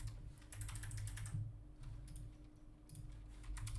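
Quick, light keystrokes clatter on a computer keyboard in short bursts with brief pauses, close and quiet.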